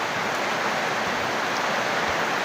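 Strong wind and rain lash a vegetable garden of string beans and eggplants, a dense, constant hiss and roar with no break.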